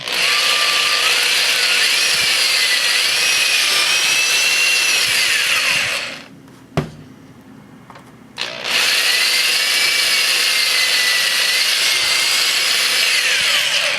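A power drill bores holes while a button board is installed, whining loudly and steadily for about six seconds, pausing briefly with a click, then starting up again for a second long run.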